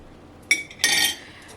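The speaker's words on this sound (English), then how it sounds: "I'm just cleaning off my spoon in here from the sauce." A metal spoon knocked against a cooking pot to shake off sauce: one sharp clink followed by a brighter, ringing scrape-clatter, close by and with no talking.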